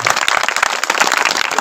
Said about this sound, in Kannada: ಕಮಿಟಿಯವರಿಗೆ ಒಂದ್ಸಾರಿ ಜೋರ್ಸಿಗೆ ಚಪ್ಪಾಳೆ ಹಾಕಿ